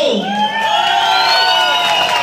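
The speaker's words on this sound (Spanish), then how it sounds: "regálenme un aplauso" A crowd at a zapateado dance event in Wendell, North Carolina, cheering and whooping loudly during a vote for a dancing couple. The burst is close and lively, with high rising yells.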